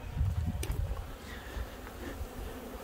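Honeybees buzz close around a beekeeper's ear at a hive, a continuous near droning hum that rises and falls as they move, with no talking.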